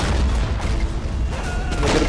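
A tank fires in the war game Army Men of War, setting off deep, muffled booms and rumbling blasts that overlap in a dense, heavy roar running through the whole moment.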